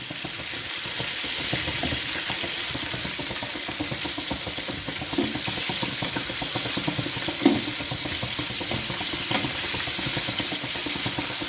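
KFC-style chicken pieces deep frying in hot oil at a low flame, giving a steady, dense crackling sizzle that holds evenly throughout with a few faint stirring clinks and no talking.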